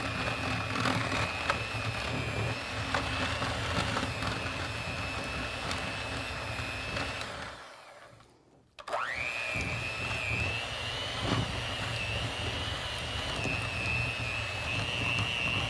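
An electric mixer beats softened cream cheese and butter together, giving a steady, fairly loud motor whine that stops briefly midway and then starts up again at the same pitch.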